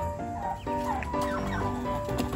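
Farmyard chickens clucking after being let out, several birds making short repeated clucks and murmurs close by over a steady outdoor background.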